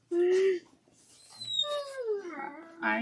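Puppy Loki whines and yelps in drawn-out, rising and falling howl-like cries, with a faint voice nearby.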